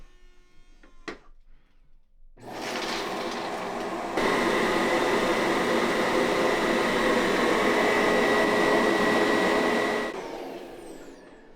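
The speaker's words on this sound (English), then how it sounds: "If you want to clean your unit, all you have to do is align the handle and the brush roll in the station" Tineco Pure One cordless vacuum running its self-cleaning cycle in the docking station: a few clicks, then a loud steady motor whir that steps up in intensity and hums on for several seconds before shutting down.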